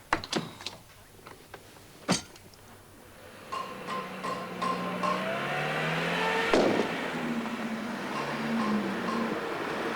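Motor car engine idling and pulling up at low volume after a few sharp clicks and knocks, the steady rumble swelling midway and running on alone.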